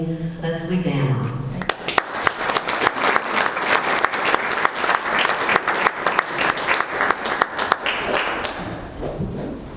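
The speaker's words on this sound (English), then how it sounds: "So please join me in welcoming Leslie Dama." A crowd at a land trust meeting bursts into sustained applause to welcome a speaker, dense hand clapping that swells after a spoken introduction and carries on for several seconds in a room.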